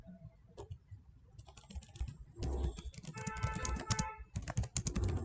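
Computer keyboard typing while writing study notes, a light stuttering patter of keystrokes that builds into a steady, busy run of clicks close by, with no talking.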